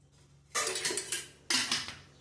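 A utensil scrapes and clatters around a bowl of dhokla batter in two bursts of brisk stirring, close and fairly quiet with short pauses between strokes and no speech.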